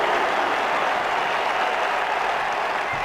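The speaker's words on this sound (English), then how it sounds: "The crowd applaud a great knock." A cricket crowd at an India v Australia Test match applauds a great shot, a steady, loud, dense wash of clapping that holds evenly throughout.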